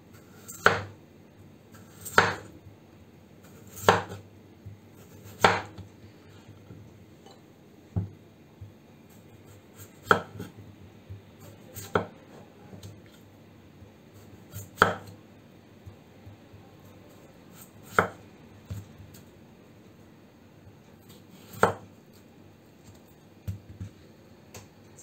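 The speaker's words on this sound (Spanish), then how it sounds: "Las patatas las voy a partir que no sean muy muy finas ni muy gordas." Knife slicing potatoes on a board in a home kitchen, a series of about a dozen crisp, separate chops spaced a second or two apart, close and clear over a quiet background.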